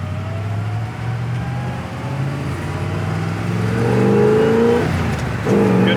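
A 1965 Corvette Stingray with a 327 V8 drives along, its engine humming steadily and then building in pitch as it accelerates near the end, with no talk over it.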